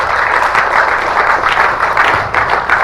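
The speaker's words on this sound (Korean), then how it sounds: "박수 한번 해줍시다" A church congregation breaks into warm, continuous applause for mothers, a close and fairly loud ripple of many hands clapping at an even pace for a few seconds.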